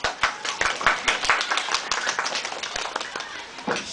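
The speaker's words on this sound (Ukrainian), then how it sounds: "Давайте ми, ми їх привітаємо оплесками." Dense applause and clapping from a school audience honouring mothers and grandmothers at a March 8 class celebration, many hands clapping loudly and steadily throughout with a few sharper claps standing out.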